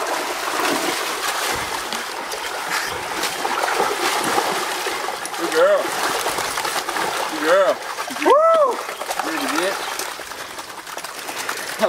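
Water sloshes and splashes continuously as hunters move through it during a Texas pig hunt with dogs, with voices calling out intermittently over the splashing.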